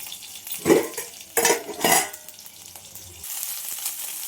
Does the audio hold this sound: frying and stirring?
yes